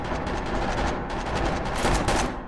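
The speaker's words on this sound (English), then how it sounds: "You can wave while aiming your gun and shooting." Rapid gunfire from a firefight in SCP: Pandemic, dense automatic shots rattling steadily and loudly for a couple of seconds without a break.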